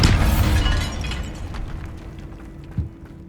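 A Bombarda spell blast in Hogwarts Legacy, set inside a tomb: a sharp shattering explosion up front that decays into crumbling debris and a low lingering hum, with a small thud near the end.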